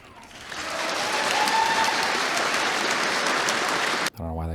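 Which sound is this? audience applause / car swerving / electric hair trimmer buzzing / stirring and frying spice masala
audience applause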